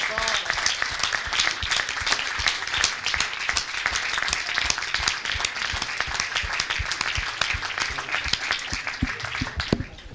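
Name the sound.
audience standing applause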